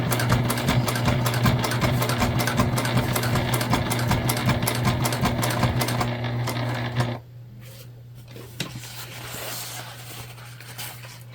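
A Juki sewing machine stitches across a bag pocket in a loud, steady run with a rapid needle rhythm for about seven seconds, then stops abruptly, leaving quiet room tone with a few faint clicks.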